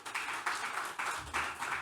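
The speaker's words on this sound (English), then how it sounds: "A round of applause as they come" Audience applause at a business forum, welcoming guests onto the stage: steady, moderately loud clapping from a crowd, rising and falling in several swells, with no talk over it.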